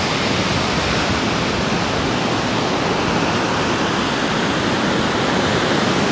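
Ocean waves at a beach at Point Reyes, heard as a loud, steady, unbroken roar of surf with no distinct individual breakers and no voices.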